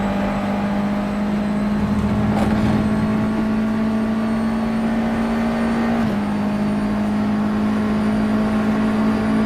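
A USF2000 open-wheel race car engine at Watkins Glen in rFactor 2 drones at steady high revs with a steady whining tone, dipping briefly at a gear change before holding on.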